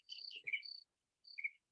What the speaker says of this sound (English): I have put the sound of night, and there are these crickets.